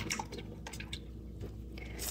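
A paintbrush loaded with acrylic paint is swished and rinsed in a cup of water, giving close, soft sloshing and dripping sounds that continue for about two seconds with no talking.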